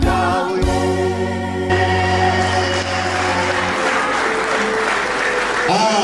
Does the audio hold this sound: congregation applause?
yes